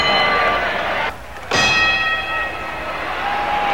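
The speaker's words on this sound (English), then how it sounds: "The bell has sounded for round four." A boxing ring bell ends a round at a 1972 heavyweight fight in Nevada. It rings out clearly over steady crowd noise, with several sustained tones fading slowly after a brief lull.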